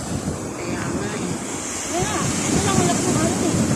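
Steady roar of surf and breaking waves with wind buffeting the microphone, while people talk nearby over the water.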